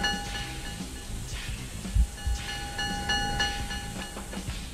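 A moving subway train runs in the video game Marc Ecko's Getting Up, a loud continuous rumble with a steady whine and repeated wheel clacks and thumps on the rails.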